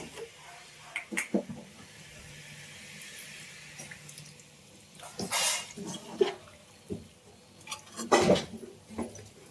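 Intermittent splashing and dribbling of water poured into a metal pot of soybean curry, with a few clinks of the pot, quiet and close, in short bursts separated by pauses.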